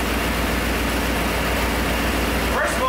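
A Ford Bronco engine fitted with Holley Sniper EFI runs loud and steady at a close distance, a continuous low rumble that holds through the whole stretch, with a brief higher tone rising near the end.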